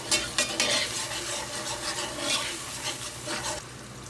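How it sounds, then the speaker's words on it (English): Stewed eggplant, Dominican style, stirred in a pot over lowered heat: a soft simmering sizzle under repeated rubbing, scraping spoon strokes, close and moderately quiet. "And then I would stir it."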